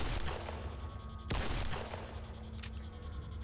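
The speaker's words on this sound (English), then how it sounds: "Shoot, that was some bad shooting on my part." Gunfire in S.T.A.L.K.E.R. cracks out in one sharp, loud shot, with a couple of fainter, more distant reports following over a rumbling outdoor background.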